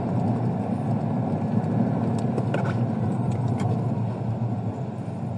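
Heavy road traffic in Araneta rumbles continuously, a dense steady wash of car engines idling and creeping along, with a few faint clicks and knocks on top and no speech.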